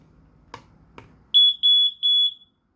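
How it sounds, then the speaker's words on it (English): A cheap 433MHz smoke alarm sounds during a button test: after two soft clicks, three loud, close, high-pitched electronic beep bursts sound alone in a steady pulsing pattern. "Well, to me it is quite loud for this type of this cheap smoke alarm"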